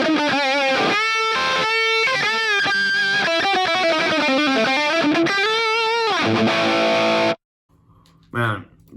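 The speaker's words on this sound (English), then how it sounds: "Man, that's actually a pretty nice crunch." An electric guitar through a NUX MG-30 crunch preset plays chords and bent notes with a crunchy, distorted tone, then cuts off abruptly before a brief final note.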